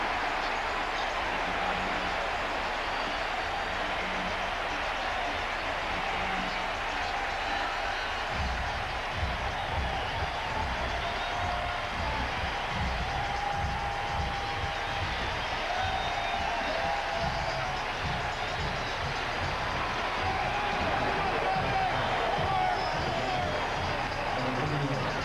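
A steady, dense roar from a baseball stadium crowd cheering after a home run in a 2001 Mets game, sustained and broad throughout with no clear breaks, swelling slightly toward the end.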